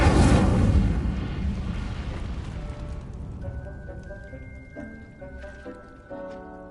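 A fire spell cast in Hogwarts Legacy: a loud whooshing burst that fades into crackling, followed by a few bright chiming tones and small pops over a low rumble.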